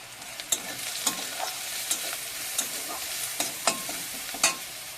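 Spices with amaranth greens and prawns frying in a pan under a steady sizzle, with repeated sharp scrapes of a spoon stirring at a regular rhythm, close and fairly loud; no talking.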